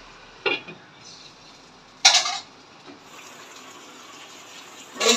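A metal lid is set onto a cooking pot of rui fish with pumpkin and malabar spinach, making three short clattering clinks spread apart over a faint steady kitchen background.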